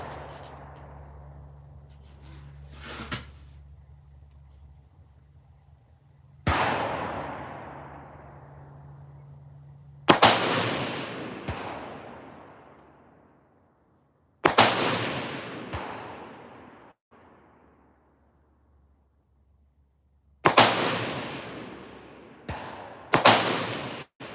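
Single AR-15 rifle shots from a Smith & Wesson Sport 3 fired at targets 100 and 200 yards out, each a sharp loud crack with a long decaying echo, spaced seconds apart with quiet gaps between.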